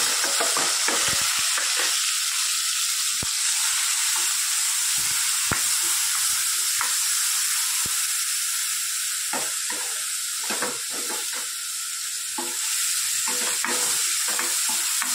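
Sprouted peas with garlic, onion and tomato fry in oil in a pan, making a continuous loud sizzle and hiss broken by repeated scraping and clinking stirs.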